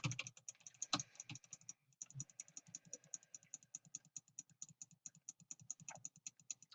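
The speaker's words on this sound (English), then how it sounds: "The terrible clicking sound" Rapid, evenly paced mouse clicks from playing the Cookie Clicker game, close and sharp, running steadily through the whole stretch with a faint background hum beneath.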